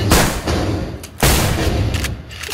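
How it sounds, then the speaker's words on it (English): Gunfire in a first-person shooter video game, two loud bursts of shots with booming impacts, one at the start and another about halfway through, close and dense with no talking. "I hear you guys shooting."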